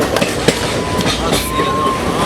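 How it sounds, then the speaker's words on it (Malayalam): A train runs on rails with a continuous close rumble and rattle of wagons, overlaid by rhythmic clicking over the track joints and a faint wheel squeal. "ട്രെയിൻ യാത്ര വീണ്ടും ആരംഭിക്കുകയാണ്."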